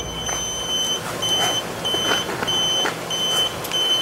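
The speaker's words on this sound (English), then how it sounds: "these buzzers, they're gonna make a little less noise" A scooter or motorcycle turn signal buzzer beeps high in a steady repeating rhythm, about every half second, over a low background hum.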